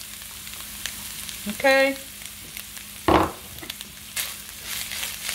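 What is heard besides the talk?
bacon cooking in a pan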